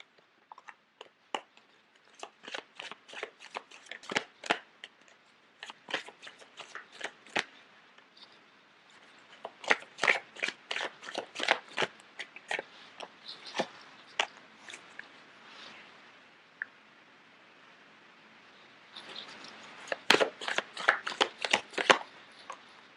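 Tarot cards are shuffled in repeated bursts of quick riffling clicks, separated by short pauses. The shuffling is close and crisp, and no one talks.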